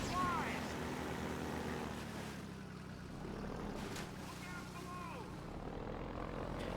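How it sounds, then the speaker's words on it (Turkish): Buzzing flying drones in the Half-Life 2 video game, a steady whirring motor drone with faint rising and falling whines, heard under a quiet background and moderately distant. "Aha drone, dronlar."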